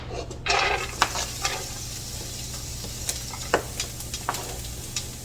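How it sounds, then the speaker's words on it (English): Finely chopped onion sizzles in hot olive oil in a pan, a steady close crackle with occasional scrapes and taps from a stirring spoon. "And to the olive oil I'm going to add, I got about a quarter of a large onion that's finely chopped"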